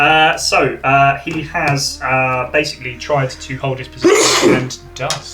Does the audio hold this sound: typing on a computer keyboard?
no